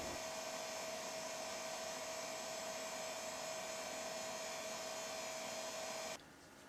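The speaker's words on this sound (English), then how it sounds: "Here's a close-up view of a Pentium 2 cooling fan." A Pentium 2 CPU cooling fan runs close up inside a PC, giving a steady high whine over a constant whooshing airflow, loud and unbroken until it drops abruptly near the end.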